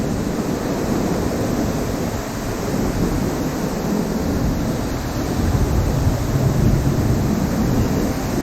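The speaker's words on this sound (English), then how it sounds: "We've made it to our fourth waterfall, Middle Falls." Middle Falls at Silver Falls State Park in Oregon in February, a steady, loud roar of falling water with misty spray, broad and constant throughout with no talk.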